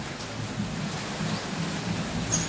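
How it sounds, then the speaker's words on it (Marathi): Unseasonal late-afternoon rain pours down outdoors as a steady, even hiss with no breaks, soft and spread out, with no voices. "हे बघा किती पाऊस आहे"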